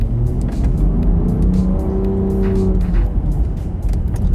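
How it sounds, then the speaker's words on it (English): A 2023 Range Rover Sport with a big, powerful engine drives steadily, its low engine drone and road rumble continuous and close throughout, with a slight rising tone midway and no talking. "It's a big car with a powerful engine on its own before you even get the electricity going."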